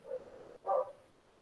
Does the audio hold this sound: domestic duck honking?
no